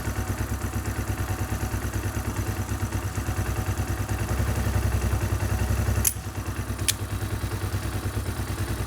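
Honda Hawk 250 motorcycle engine idling unevenly at close range, a steady low throbbing pulse with a slight rise in revs, a sharp click near the middle and a brief metallic tap afterward.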